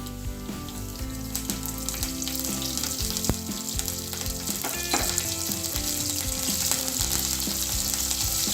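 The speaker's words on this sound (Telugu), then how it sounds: "అలాగే ఇందులో కరివేపాకు కొత్తిమీర వేసుకుందాం" Curry leaves and coriander fry in a brinjal and chana dal curry, crackling and sizzling continuously up close while a spoon stirs and taps against the pan.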